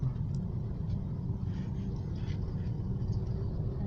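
Steady low rumble of heavy road traffic in Old Balara, Quezon City, a continuous drone of car and vehicle engines at moderate distance with no clear pass-bys standing out.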